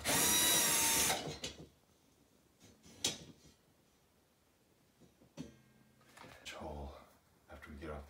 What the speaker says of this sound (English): Actually, we need to drill holes.